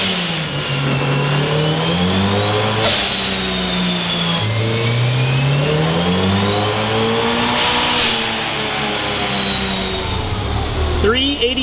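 A built high-compression turbocharged 1.6-litre engine revving hard on a dyno, loud sweeping pulls that climb and drop in pitch twice, with a sharp burst near the end and voices talking underneath.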